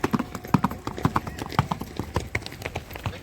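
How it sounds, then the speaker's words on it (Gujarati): Horses trotting at a Marwari and Sindhi horse show in Wankaner, with a quick, uneven clip-clop of several sets of hooves close by, faint voices in the background. "5-5 ઘોડા ભેગા મોકલશે"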